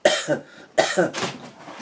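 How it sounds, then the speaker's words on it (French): Two sharp coughs close to the microphone, the second followed by a rougher, drawn-out throaty cough trailing off. "Je tousse parce que"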